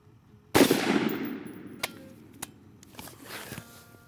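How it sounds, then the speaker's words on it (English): A single loud rifle shot cracks out at a shooting range while sighting in an ATN Thor 4 thermal scope, its report decaying with echo, followed by a few faint clicks and handling knocks. "Firing."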